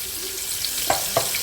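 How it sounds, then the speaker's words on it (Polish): A piece of fish laid into hot oil in a frying pan gives a soft, steady sizzle, with a couple of brief crackles and pops standing out near the end. "Na rozgrzany olej wykładam rybę."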